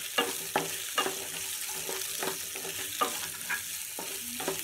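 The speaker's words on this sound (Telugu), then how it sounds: "ఇప్పుడు నేను దీంట్లో ఆనియన్ యాడ్ చేస్తున్నానండి." Onions frying in a pan alongside bitter gourd for a Telugu-style bitter gourd fry, a steady broadband sizzle broken by regular clattering stirs of a spatula, close up, with no talking.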